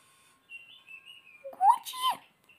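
A lovebird parrot gives a few thin whistling chirps, then a louder squawking call up close, with quiet pauses between them.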